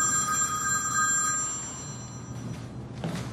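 A telephone rings during a strength-sport training session, its electronic ring tone clear and steady for about a second and a half before fading under low room noise, with a faint thump near the end.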